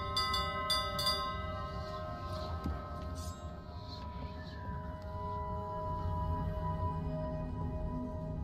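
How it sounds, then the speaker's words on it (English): A ship's bell rings aboard a pirate vessel in the Sea of Thieves video game, several bright metallic strikes near the start with sustained resonant tones hanging over a constant low ambient hum. "There's a bell."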